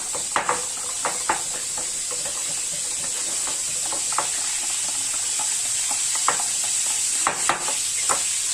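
Spiced tilapia fries in a pan while being stirred, giving a steady bright sizzle and hiss throughout with scattered scraping clicks from the utensil moving through the fish and oil.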